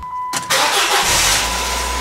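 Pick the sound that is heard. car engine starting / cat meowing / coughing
car engine starting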